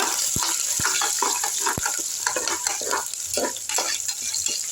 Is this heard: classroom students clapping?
no